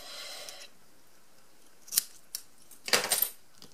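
Scissors snip through paper to trim a craft giraffe cutout: a few short, crisp close cuts, one single and then a quick cluster, over a quiet background after a brief faint rustle.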